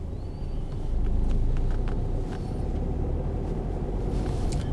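A car's engine rumbles steadily during a driving lesson as the driver accelerates and then brakes, a continuous low drone heard from inside the cabin with no talking.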